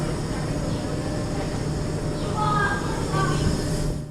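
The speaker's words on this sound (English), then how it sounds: "Our train is already waiting for us on platform 5." Steady low rumble of a Golden Pass Express train hauled by an M.O.B GE4-4 electric locomotive, standing at a Swiss station platform, with a continuous electric hum and faint high squeals near the end. Background voices murmur underneath.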